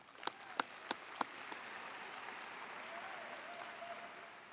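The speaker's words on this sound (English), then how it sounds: "A preemptive round of applause to Grace Callahan" Applause from a graduation audience at Anderson High School, a few sharp individual claps up front, then a broad steady wash of many hands clapping, moderately distant and sustained.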